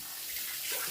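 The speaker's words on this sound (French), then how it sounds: "Maintenant, on les rince." Peeled vegetables rinsed under a running kitchen tap, a brief steady gush of splashing water, close and fairly loud, without talking.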